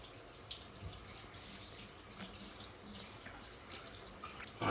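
Faint tap water running into a sink as a child washes after brushing teeth, a steady soft stream with small splashes, heard alone in a quiet room.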